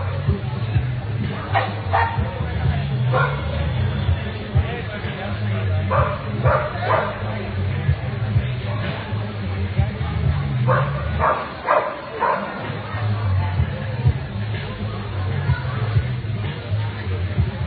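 Bully breed dogs bark and yip repeatedly at an indoor dog show, with sharp overlapping barks over a steady crowd hubbub and nearby talk.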